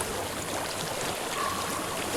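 Water flows steadily in a stream in the video game Hellblade: Senua's Sacrifice, a continuous broadband rushing and burbling that stays even and fairly close throughout.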